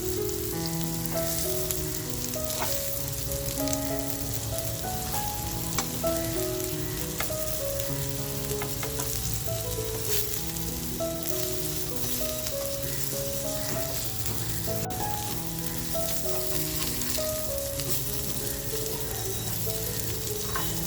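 Surmai fish cutlets fry in a pan in a continuous crackling sizzle, dense and even throughout with scattered pops and an occasional light nudge of a spatula, no one speaking.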